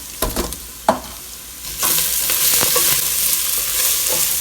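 Onions frying in a pan on a stove hiss loudly and steadily, with a few knocks and scrapes of a utensil at the start before the sizzle swells and holds, no voices.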